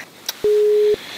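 A telephone busy tone after an unanswered call: a single steady electronic beep held for about half a second, clean and loud, with no talk over it.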